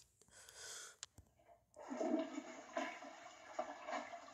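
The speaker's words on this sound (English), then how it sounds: "Oh, he flushed the toilet." Toilet flush starting after a short breathy sound and a click, then a rushing, gurgling swirl of water that builds and carries on steadily, moderately close with no speech over it.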